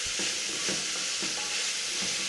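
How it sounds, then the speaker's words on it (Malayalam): Onions with salt sautéing in a pan for an egg curry, a dense continuous sizzle punctuated by several quick, rhythmic scrapes of a spatula stirring close up. "ഇതെല്ലാം കൂടി ഇട്ട് നന്നായിട്ടൊന്ന് വഴറ്റി കൊടുക്കാം."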